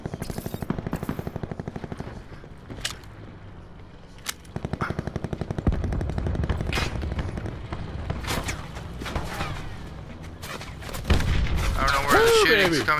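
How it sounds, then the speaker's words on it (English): Rapid bursts of automatic gunfire crackle through a shooter video game, some close and some distant, with sustained volleys and a voice talking over the shooting. "Somebody's shooting at me."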